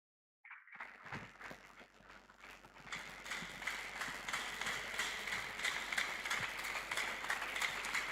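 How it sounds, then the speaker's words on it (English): A conference audience claps in a large hall, a dense patter of many hands that starts abruptly after a brief quiet moment and builds into sustained, fuller applause that continues to the end. "This one you're clapping very well."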